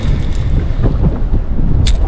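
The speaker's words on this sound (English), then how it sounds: "Oh baby, it is windy out." Strong wind outdoors on a fishing boat makes a loud, steady rumbling buffet against the microphone, with gusting low roar throughout and no speech.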